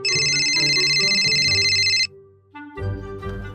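A mobile phone ringtone plays loudly and steadily for about two seconds, then stops and gives way to a murmur of background voices and other sounds.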